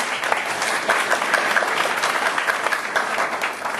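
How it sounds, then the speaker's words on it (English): Audience at a special education summit applauding, a dense, steady wash of many hands clapping at moderate distance, continuing throughout without voices standing out. "give them applause"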